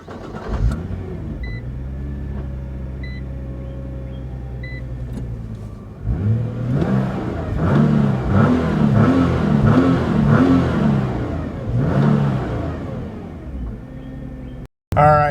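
A 2013 Nissan GT-R starts up and idles with a deep steady hum, then revs through several quick, loud throttle blips before settling back, heard close with no talking.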